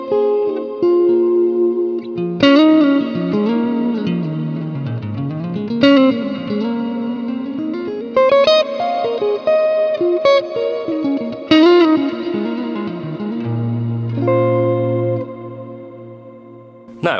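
Electric guitar played through Line 6 HX Stomp amp and cabinet models, a distorted tone with melodic bends and slides across several phrases, ending on a sustained low note, loud and alone.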